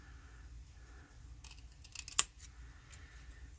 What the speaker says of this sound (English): So I'm going to go ahead and just cut this out.